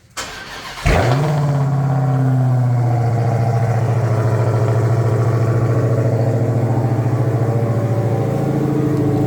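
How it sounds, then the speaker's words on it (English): A Ford Bronco Raptor's engine fires up after a short click, then settles into a loud, steady, throaty exhaust idle close by, with a slight rise near the end. "Listen to this exhaust."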